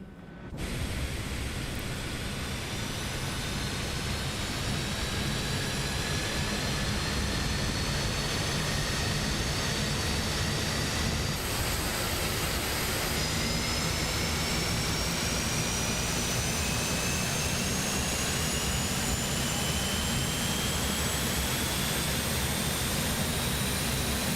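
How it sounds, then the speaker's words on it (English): Airbus A400M turboprop engines spin up together in Microsoft Flight Simulator 2024, a loud continuous roar and broadband hiss with slowly rising whine tones that builds steadily and holds for over twenty seconds. "Two engines at the same time."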